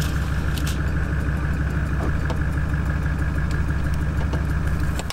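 A vehicle engine runs steadily throughout with a constant low rumble and drone, loud and continuous, with no talking over it.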